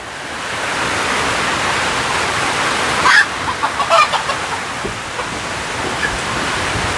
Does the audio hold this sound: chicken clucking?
yes